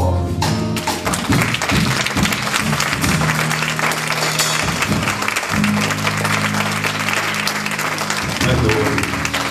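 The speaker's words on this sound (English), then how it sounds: "Give Lord a hand clap off." A church congregation claps their hands in praise, with loud, crowded claps and scattered sharp taps, over a low sustained musical tone for the whole stretch.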